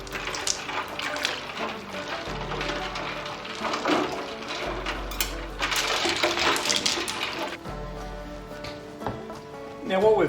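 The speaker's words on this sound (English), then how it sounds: "we can just dunk him straight into the ice water" Whole chicken being lowered into ice water, with splashing, sloshing and clinking ice in a kitchen under a person's ongoing talk, and a louder splash near the end.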